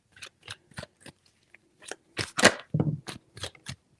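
A deck of tarot cards shuffled by hand, a series of sharp close papery snaps and riffles in uneven bursts with near-silent gaps, alone.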